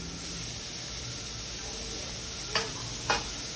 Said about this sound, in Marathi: आता एक एक करून सॅलडसाठी आपण जे कापलं ते सगळं हाय फ्लेमवर